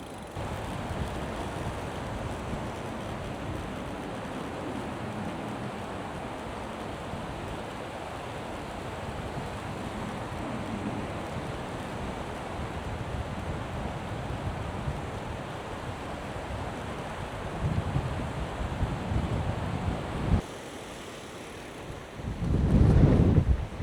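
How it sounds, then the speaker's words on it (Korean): Wind buffeting a microphone outdoors on a riverside bike path, a continuous rough rushing roar that holds steady, drops briefly, then surges in a heavier gust at the end. "바람."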